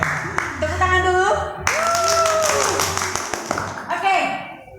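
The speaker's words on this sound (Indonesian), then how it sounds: "Tepuk tangan dulu." An Indonesian game-show crowd claps for a team, loud and close, heard beneath continuous excited talking and a sung or chanted melodic voice, with the clapping blending into the busy, noisy mix.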